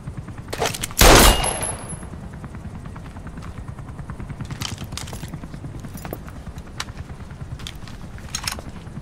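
Automatic gunfire in Metal Gear Solid V, one loud close burst of shots, followed by a rapid rattling rumble and scattered sharp cracks under a steady low drone.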